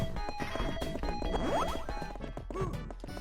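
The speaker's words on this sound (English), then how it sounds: "Smashing the box will make 1 or 2 more appear." A box smashes in the arcade game Burglar X amid busy chiptune-style music, with sharp synthetic crash and thwack hits and short rising and falling electronic blips.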